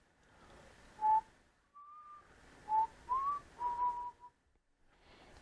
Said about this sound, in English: off in the distance the prince could hear a whistling.